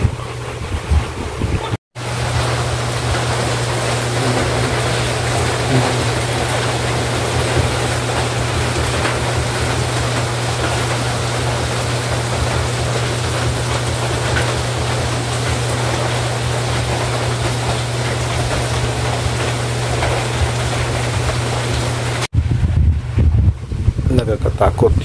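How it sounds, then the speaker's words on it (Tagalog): Heavy typhoon rain roars continuously with gusting wind in Southern Leyte, a dense, loud wash of noise over a low steady hum that cuts off abruptly near the end. "Nakakatakot yung ulan, grabe ang lakas, saka may kasamang hangin."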